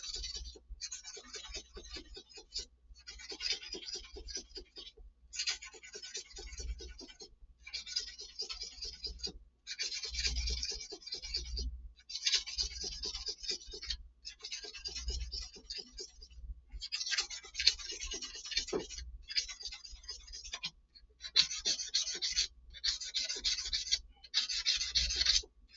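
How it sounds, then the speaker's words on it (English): A custom guitar body hand sanded with 400 grit sandpaper, light rhythmic scratchy strokes repeating in steady bursts with brief pauses, close and fairly quiet. "Let the sandpaper do the work."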